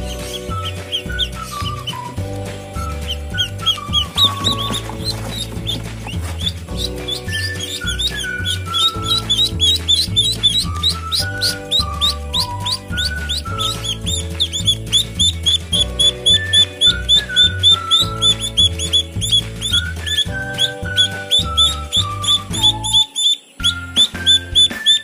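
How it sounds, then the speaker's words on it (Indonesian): Constant high, shrill peeping from many meat-breed ducklings, layered over a steady low rhythmic thumping that goes on the whole time. "jika bebek betina ini bunyinya melengkingnya"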